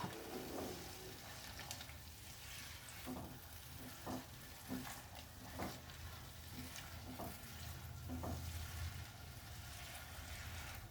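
Peas and spices sauté in oil in a pan for dhokar dalna, a soft continuous sizzle broken by intermittent scraping and stirring knocks, fairly quiet and close, with no talking.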